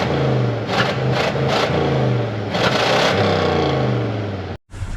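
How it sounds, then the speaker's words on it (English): A big block Ford V8 revs hard and close, a loud throaty roar rising and falling in several surges, then cutting out abruptly near the end before briefly catching again. "Man, you don't beat the sound of a big block Ford."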